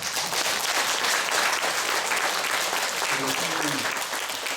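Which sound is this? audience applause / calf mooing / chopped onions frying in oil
audience applause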